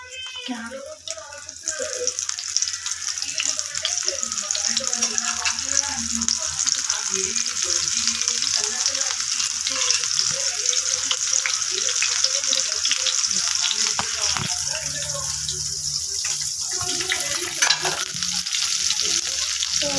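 Soybeans sizzle and fry steadily in hot oil for the whole stretch, a loud, dense crackle with bursts of spattering. A voice talks now and then underneath.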